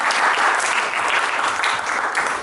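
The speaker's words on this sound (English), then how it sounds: "A big round of applause to the body." A workshop audience at a leadership session breaks into a round of applause, steady dense clapping that fills the room at a fairly even level from start to finish.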